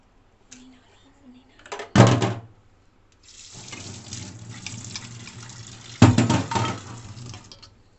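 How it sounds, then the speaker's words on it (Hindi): Water splashes and sloshes in bursts as coriander leaves are swished around in a bowl of ice water, with two sharper splashes and quieter rinsing between them. "और इस बर्फ़ वाले पानी में धनिया को अच्छी तरीके से धोएंगे।"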